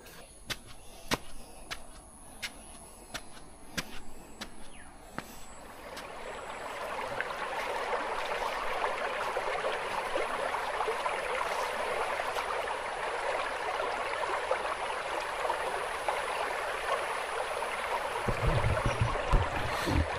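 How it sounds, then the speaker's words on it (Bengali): A river by a forest homestay near Jaldapara in the Dooars flows with a steady broad rushing wash that swells in after a few quiet seconds of faint ticks and holds on evenly, fairly close and with no talk. "কুলকুল করে জল বইছে।"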